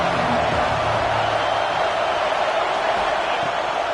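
Football stadium crowd during a third-down red zone play between Notre Dame and Michigan, a loud, steady wash of massed voices filling the whole stretch without a break.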